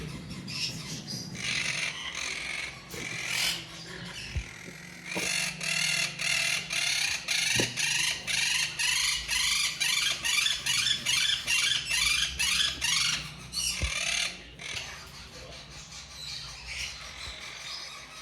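A breeder pair of green monk parakeets gives rapid, repeated harsh squawks in a long rhythmic burst, close and loud, with quieter calls before and after.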